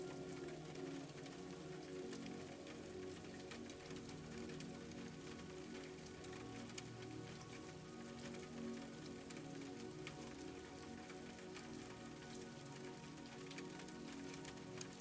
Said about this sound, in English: The rain has found its rhythm again.